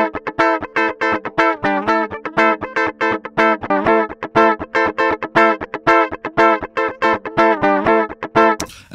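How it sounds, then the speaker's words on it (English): Guitar runs through a Darkstorm DI box on a dirty, pushed setting, giving a dark, fat, mildly distorted tone in a fast rhythmic stream of short picked notes, loud and close. "And we can hear some distortion already, and you know, you can see that it gets a lot darker, it gets fatter, it gets fuller."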